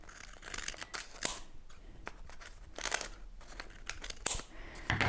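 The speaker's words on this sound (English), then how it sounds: "I'm just going to use my scissors to cut those edges down by" Scissors trim the paper edges of a notebook insert in quiet, close snips spaced across several seconds, with soft paper rustling and crinkling between cuts.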